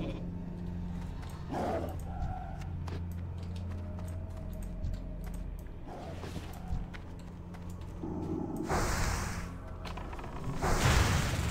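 Sheep bleats from a mage's Polymorph spell in World of Warcraft Classic, a few short nasal calls rising over game ambience, with keyboard tapping and clicks running throughout.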